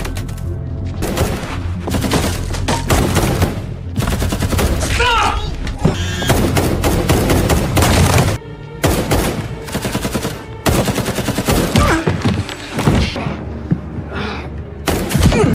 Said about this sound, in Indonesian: terjadilah baku tembakan di atas sana